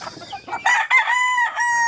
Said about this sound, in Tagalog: ang mga manok namin